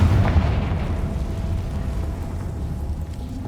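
A Confringo blasting spell detonating in Hogwarts Legacy: a loud, close explosive burst at the start that decays into a long, rumbling roar.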